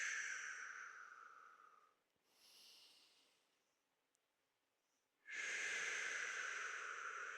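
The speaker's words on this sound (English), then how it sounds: "you will need to inhale and exhale slowly 3 times" Slow, deliberate breaths during a pranayama exercise: a long hissing exhale close to the microphone, a softer breath, a pause of near silence, then another strong airy breath starting abruptly.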